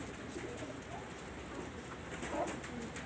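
Pigeons coo faintly as they fly down to drink, a soft, low murmur of repeated calls with no talking over it.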